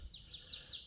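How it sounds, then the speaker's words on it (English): Birds chirp repeatedly in quick descending tweets among leafy woods along a hiking trail, the calls fairly close and steady over faint background ambience. "Hear the birds chirping."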